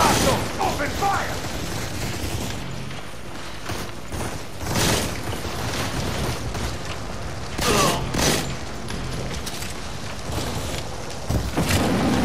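Gunfire in the mobile shooter Modern Combat 4: Zero Hour, with bursts of shots and booms scattered across the scene alongside mechanical clatter and voices talking.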